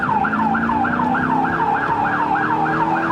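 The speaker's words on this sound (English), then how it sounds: "With sirens blazing, Cicero police race to another gang-related shooting." A police car siren on the streets of Cicero, a Chicago suburb, in 1999, wailing in a fast, steady rising-and-falling cycle, loud and close.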